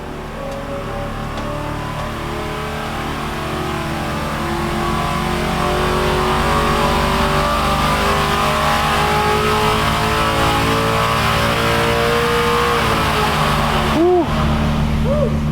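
A performance engine runs on a Comp Cams lab dyno, a loud, close, continuous engine roar that climbs in pitch and intensity as it revs, then pauses briefly near the end.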